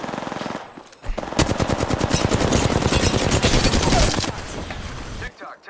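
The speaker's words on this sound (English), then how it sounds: "Getting shot at." Rapid automatic gunfire in Apex Legends, a dense sustained burst of shots lasting several seconds, loud and close, with brief quieter gaps before and after.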